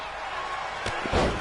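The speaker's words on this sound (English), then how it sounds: "what a crossbody slam there" Wrestler's crossbody slam onto the mat at a live wrestling event, a sharp thud followed by a second heavier impact over a background of crowd noise.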